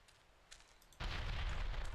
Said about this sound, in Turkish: Bomba.